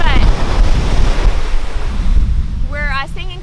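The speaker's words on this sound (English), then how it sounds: "No, the waves are crazy. Look at the waves." Ocean waves crashing at Kaanapali Beach on Maui, a loud continuous roar of surf with heavy wind buffeting the microphone, and a brief voice near the end.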